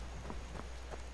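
Steady rain patters softly in Skyrim over a low, constant hum, with a few faint drips standing out; no voices.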